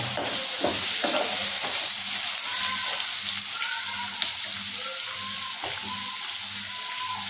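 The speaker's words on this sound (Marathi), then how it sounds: "आणि बटाटे छानपैकी परतवून घ्यायचे. म्हणजे तेलामध्ये थोडे भाजले गेले बटाटे की खूप छान होते भाजी." Chopped potatoes fry in hot oil for batata bhaji, a loud close sizzle with repeated stirring scrapes and soft clinks against the pan, no one speaking.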